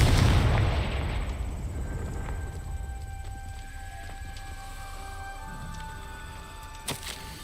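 Confringo spell explosion in the Hogwarts Legacy video game, a loud booming blast at the start that decays into a long rumbling tail under sustained tonal game music, with a small thump near the end.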